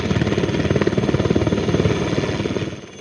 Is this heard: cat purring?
no